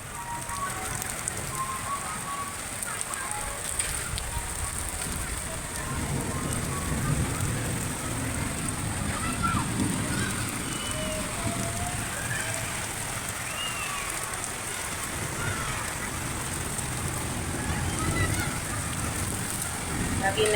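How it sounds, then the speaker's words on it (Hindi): Steady rain falls through a morning, a continuous broadband patter with soft background murmur and faint distant sounds, moderately loud throughout. "सुबह से ही माशाल्लाह बारिश हो रही थी"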